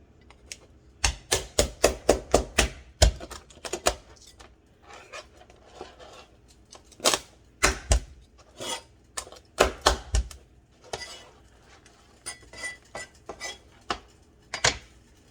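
A knife chops lobster into small pieces on a board, with quick bursts of sharp, close knocks, a run of rapid cuts, then pauses, then more scattered chops.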